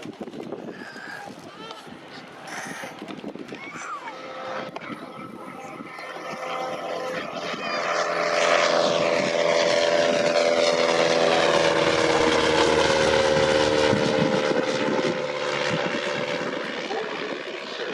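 A propeller aircraft takes off at the Shuttleworth airshow, its engine roar swelling to full power about halfway through as it passes nearby, while a commentator talks over it.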